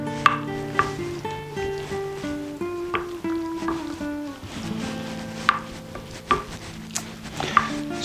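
A spatula scrapes and taps as Egg Life noodles and chicken are stirred and spread in a pan, with irregular clacks against the metal over a faint sizzle, close and steady, with no talk.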